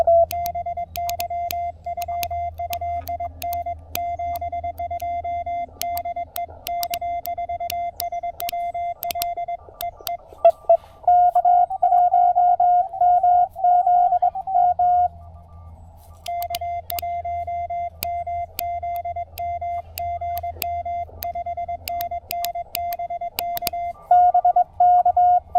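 Morse code sent with a CW key comes through a radio as a steady stream of keyed single-pitch tones, dense on-off patterns running nearly continuously with short pauses, alone without speech.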